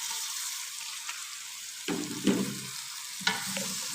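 Vegetables for pumpkin soup stirred together in a pot, a steady background sizzle broken by a few scraping stirs in the second half, close and moderately loud.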